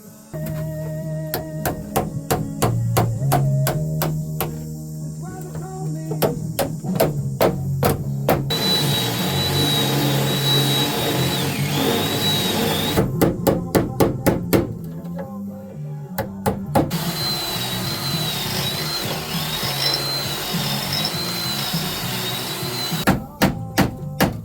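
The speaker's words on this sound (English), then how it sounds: "we just got a bunch of spot welds to drill out all the way across here to get this piece off of the rail" A power drill drills out spot welds on the floor panel of a '91 Dodge Grand Caravan SE in long whining bursts, close and loud, broken by sharp metallic clanks and taps between bursts.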